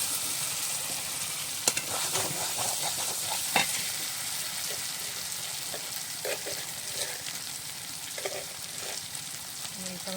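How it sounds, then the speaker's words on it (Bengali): Fried potatoes are stirred into oily, sizzling masala for a thin tilapia fish curry with potato, giving steady frying hiss over ten seconds with occasional scrapes and clinks of the spoon against the pan. "আমি ভাজা আলুটা দিয়ে দিচ্ছি"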